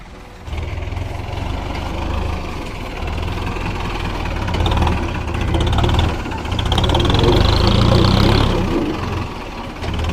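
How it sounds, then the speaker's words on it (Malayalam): A tractor engine chugs steadily nearby at Vizhinjam harbour, Kerala, where it hauls something ashore; its low rumble rises and falls slightly, with a whining mechanical tone swelling toward the end. "അതിനെ കെട്ടി വലിച്ച് കരയിലേക്ക് എത്തിക്കാൻ വേണ്ടിയിട്ടാണ് ഈ ഒരു ട്രാക്ടർ ഉപയോഗിക്കുന്നത്"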